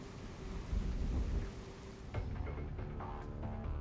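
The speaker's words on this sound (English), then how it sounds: "it defies a perennial Asian storm, the typhoon." Typhoon storm over Taipei: heavy rain pours steadily while deep thunder rumbles and cracks loudly, a dense, continuous roar with no voices.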